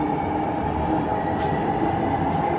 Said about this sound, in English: That damn train.